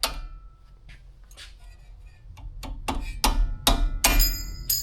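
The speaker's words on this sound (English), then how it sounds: "I'm gonna use a hammer." Sharp metal hammer taps on a pressure clip fitted onto a brake line during front and rear shock replacement on a Suzuki XL-7, about seven hits growing louder and closer together toward the end.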